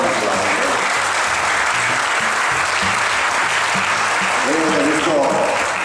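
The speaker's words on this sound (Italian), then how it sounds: "ci vuole un applauso" An audience at an inauguration ceremony for a stretch of the Pedemontana Veneta highway gives sustained, dense applause, loud and continuous throughout, with a voice rising briefly near the end.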